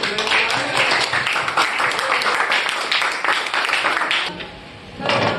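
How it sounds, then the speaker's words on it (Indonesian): A classroom group applauds a friend, a steady burst of many hands clapping that fills the space, then tapers off near the end as a voice returns. "Give applause for your friend."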